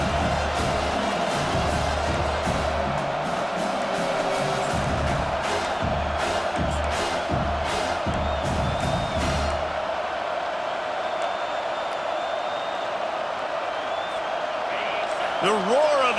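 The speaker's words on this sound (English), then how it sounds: "The roar of the crowd trying to fuel this defense to keep them pinned in their own end." Dense football stadium crowd roaring late in the first half of a college football game as the defense tries to hold, a loud steady wash of noise with commentary-like voices in the first ten seconds, then easing to a softer sustained crowd rumble.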